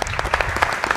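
Studio audience at a televised dance competition clapping, a short burst of dense, close applause with uneven individual claps standing out.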